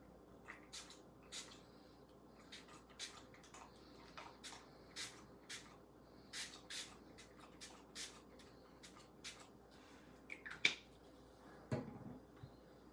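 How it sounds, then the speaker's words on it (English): Distress spray stain being spritzed from a small spray bottle during paper crafting, a series of short, quiet bursts repeated at irregular intervals in a calm room. "I'm going to get my distress spray stain"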